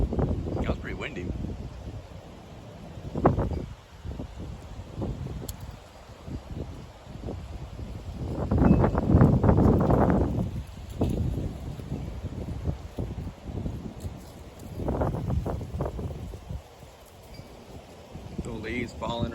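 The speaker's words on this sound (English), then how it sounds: "That was pretty windy." Outdoor wind gusts through rustling autumn leaves, buffeting the microphone in rising and falling surges, strongest in a long burst midway, with a voice faintly present at times.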